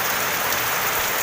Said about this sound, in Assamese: আমাৰ ফালে চাওক কেনেকুৱা বৰষুণ পৰি আছে।